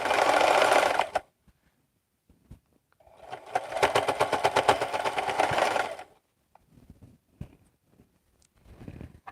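A sewing machine stitches a fabric cross body bag in short bursts: one brief run, then a longer steady whirring stretch of rapid needle strokes, followed by small handling clicks and a last faint start, all close and clear without talk.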